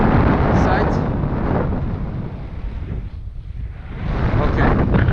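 Strong, steady wind roaring across the microphone during a low paraglider flight. It dips briefly partway through, then rises again, and someone speaks over it.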